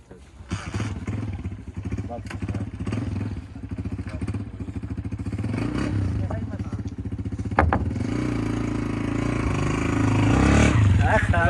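A motorcycle engine runs and revs close by during a ride, rising steadily in loudness with clattering and thumps over rough ground, while someone talks over it.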